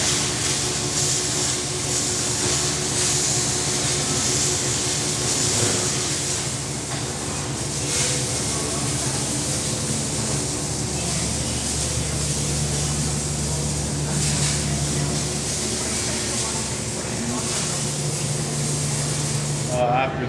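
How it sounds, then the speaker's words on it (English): Welding a custom hydraulic cylinder produces a continuous crackling hiss, steady and close for the full stretch, with a faint hum beneath and some low background sounds. "Now I'll weld these"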